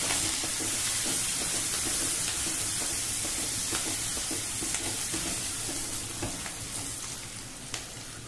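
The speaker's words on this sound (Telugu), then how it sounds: "ఇట్లా వేయించుకోండి. ఇట్లా వేగుతుంది కదా" Okra fries in a pan with a loud, dense sizzle and hiss close up, with occasional stirring scrapes and clicks as the frying slowly eases, no talk.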